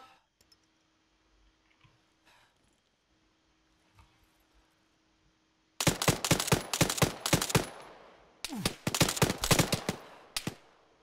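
Arma 3 gunfire in a video game firefight: after several quiet seconds, a dense burst of rapid automatic shots erupts, pauses briefly, then resumes in another loud volley.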